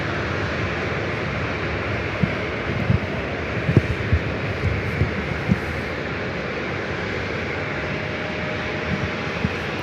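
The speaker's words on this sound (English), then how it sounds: "Next takeoff is Southwest 4556. Going to be taking off to Nashville, Tennessee on the" A Southwest Boeing 737-700 airliner takes off at LAX, bound for Nashville, its jet engines a steady, broad roar heard from a distance, with a few faint knocks and bumps rising over the constant rumble.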